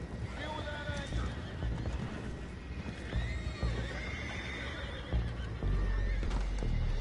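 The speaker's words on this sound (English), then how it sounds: "Boys, go find out about those horses down below." Horses whinny and neigh with clip-clop hooves in the Red Dead Redemption 2 style western game, loud and close, against busy ambient noise with a voice speaking.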